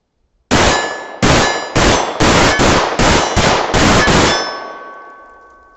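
.45 pistol fired held only by two fingers: eight loud, sharp shots at close range, spaced under a second apart with slightly uneven timing, followed by a ringing echo that slowly fades.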